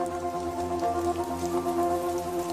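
Rain falls steadily on leaves where hummingbirds bathe, a soft even patter under a faint sustained tonal hum, moderate in level and unbroken throughout.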